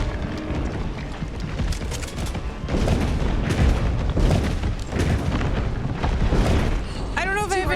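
Repeated loud gunshots in rapid bursts, dense booming blasts following one another over several seconds, with a voice briefly heard near the end.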